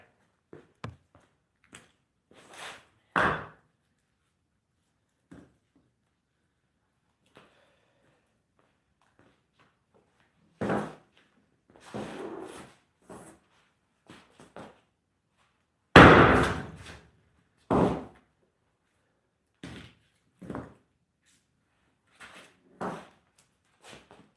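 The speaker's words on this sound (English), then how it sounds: "Now I'm turning the hammer every time it hits." A hammer strikes wood repeatedly while mulch is made by hand outdoors in winter, giving sharp, irregular knocks with quiet gaps between them, a few hard and close, others softer.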